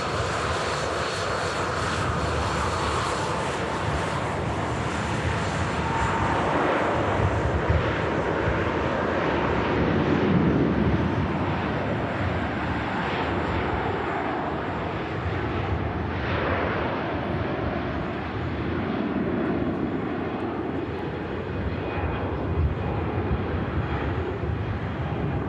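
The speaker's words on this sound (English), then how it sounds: "Cathay Pacific beginning a takeoff roll" A Cathay Pacific Boeing 747 begins its takeoff roll at Manchester Airport, bound for Hong Kong: a loud, steady jet engine roar that holds strong for the whole stretch, rising and swelling slightly midway with no voices.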